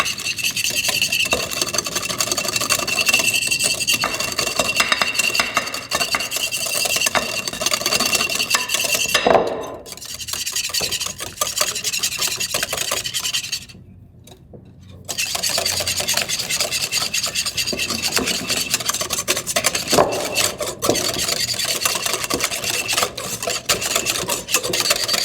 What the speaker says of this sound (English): So these are getting whisked until they become a lighter yellow.